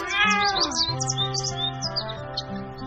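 A cat meows repeatedly over a gentle music bed in a children's fairy tale about a miller's dear cat, bright high cries close and clear with bird-like chirps around them.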